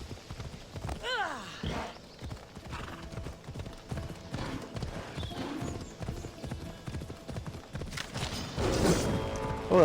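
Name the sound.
horse hooves in video game Assassin's Creed Odyssey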